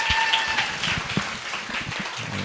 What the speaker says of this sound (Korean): 여러분들 그룹장님들을 위해서 박수